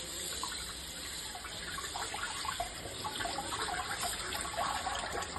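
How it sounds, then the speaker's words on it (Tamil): Fresh moringa leaves are rinsed under a running kitchen tap, a steady, fairly soft rush of water splashing over the greens throughout, with no talking. "இப்போ நம்ம போய் இந்த முருங்கைக்கீரையை போய் வாஷ் பண்ணிட்டு வந்துடலாம்."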